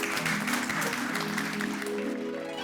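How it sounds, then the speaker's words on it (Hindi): Dense clapping from a crowd, steady and sustained, with some voices mixed in beneath the applause. "उनके सम्मान में जोरदार तालियां"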